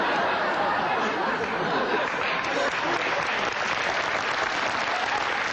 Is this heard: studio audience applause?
yes